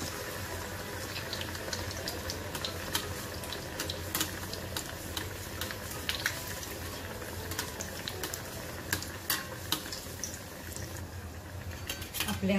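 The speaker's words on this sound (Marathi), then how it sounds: "आता आपण हा कोटिंग केलेला दुसरा वडा घालतोय कढईत." Coated bread pakoda sizzling in hot oil in a kadhai, a steady dense bubbling and crackling that runs throughout with light clinks of utensils.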